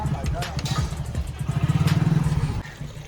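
A motorcycle engine runs nearby, idling and blipping with pulsing low rumble that builds into a steady throbbing beat before easing off, mixed with people talking over it.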